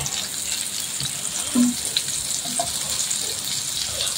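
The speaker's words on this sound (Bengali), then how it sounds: "এখন ওই তেলের মধ্যে আমি অল্প পরিমাণ পেঁয়াজ কুচি দিয়ে দিব।" Chopped onions dropped into hot oil left from frying fish, a continuous close crackling sizzle with a slight bubbling texture throughout.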